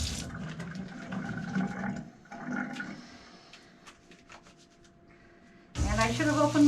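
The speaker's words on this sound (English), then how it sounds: "Now we go out to our scrub sinks and we're going to do a basic hand wash." Running water at a surgical scrub sink as hands are washed, a broad splashing flow that fades to quieter rubbing, then returns loud and close near the end.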